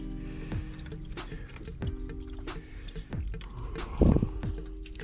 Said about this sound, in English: It's starting to drip out.